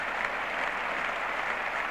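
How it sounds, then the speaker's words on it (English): England cricket team applauding Viv Richards off the field after his 291 in a 1976 Test against England, a steady, even wash of clapping with no voices over it. "Been applauded all the way in by the England team"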